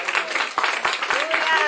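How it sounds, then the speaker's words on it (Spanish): A church congregation claps for the Lord during a Spanish-language Bible sermon, a short burst of steady, dense applause from a crowded room with a voice faintly present in the mix. "Denle un fuerte aplauso al Señor."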